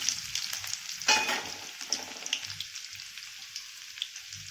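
Crushed garlic sizzling in hot oil for a hotel-style dal tadka, a steady bright crackle with a sharper burst as it hits the pan, then continued frying with faint stirring taps, no voices.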